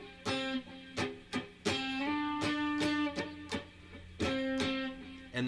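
Acoustic guitar played in a worship-song strumming pattern, with sharp muted percussive chicks between ringing down-strums and a sustained sliding note. The rhythmic strokes sound close and moderately loud, with no talking.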